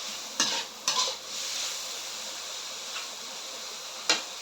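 Shiitake mushrooms stir-frying with minced pork, a soft continuous sizzle beneath a few sharp clicks of a spatula against the pan, spaced irregularly and close.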